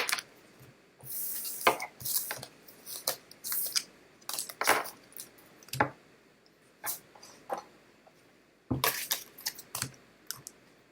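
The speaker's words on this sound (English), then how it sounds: "I'm just going to clear all of these cards away." Tarot cards being gathered up and cleared from a tabletop after a love reading: a close, irregular run of crisp taps, slaps and brief papery swishes with short pauses between, and no voices.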